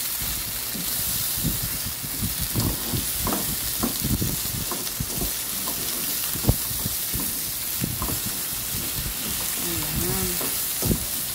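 Chicken feet adobo with soy sauce, stirred in a pan, sizzles steadily while close, repeated scraping and clacking stirs break through, with a brief spoken word.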